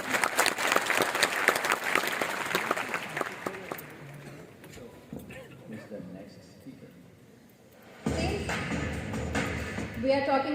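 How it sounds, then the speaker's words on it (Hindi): Audience applause at a Connected Pakistan conference, loud clapping at first that thins out and fades into quieter scattered claps, then a sudden burst of renewed sound near the end; some talk mixes in. "आप सबकी भरपूर तालियां."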